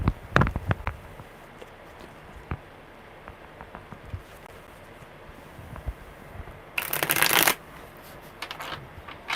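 Tarot cards riffle and snap in a few quick bursts, with one louder, longer shuffle near the end amid soft handling noises.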